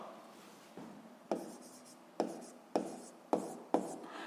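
A pen writes by hand on paper in a series of short scratchy strokes, about six distinct marks with soft rubbing between them, close and quiet.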